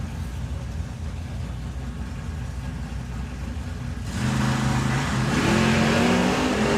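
A nitrous-fed small block Chevy drag car at a drag strip idles with a rough rumble, then its engine swells sharply into a louder, rising roar with revving tones over the last few seconds.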